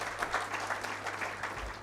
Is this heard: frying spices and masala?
no